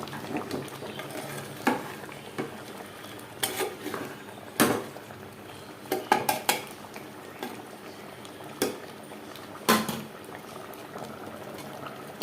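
Mutton curry with potatoes cooking in a covered pot, a low bubbling simmer broken by sharp clanks and scrapes of a spoon stirring, with a few louder knocks against the pot's metal rim.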